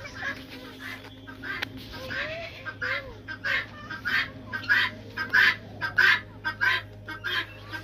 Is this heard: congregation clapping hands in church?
no